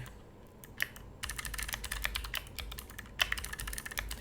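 Rapid typing on a computer keyboard while coding, heard as dense, close bursts of clicks with a brief pause before a fast run resumes.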